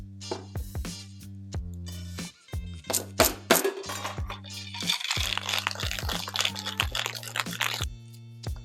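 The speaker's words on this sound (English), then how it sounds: "And then you're going to shake for about 10 to 15 seconds and then strain into your glass." Ice rattles inside a cocktail shaker as a hurricane cocktail is made, starting with scattered clinks and then a sustained rapid crunching shake over a low steady hum, close and with no voices.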